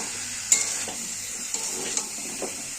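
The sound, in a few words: spice paste sautéed with cumin, turmeric and chilli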